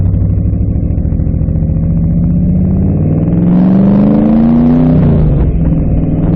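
A 1966 Ford 427 side oiler V8 in a Shelby Cobra rumbles loudly and close, idling with a deep, lumpy beat before the revs climb in a swelling pull and then drop back.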